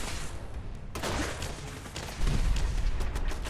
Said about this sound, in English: Take my baseball grenade.